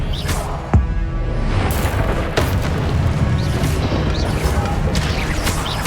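Spells hit in the video game Hogwarts Legacy, landing as sharp booming impacts, one strong crack near the start and more thuds after, over a dense, busy combat din.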